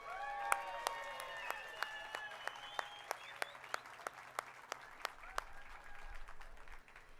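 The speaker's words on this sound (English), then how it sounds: "Let's give them a big round of applause." An audience applauds at a Hollywood Walk of Fame ceremony outdoors, a soft steady patter of clapping under sharp, regular clicks, with a faint whistle-like tone early on and a low rumble near the end.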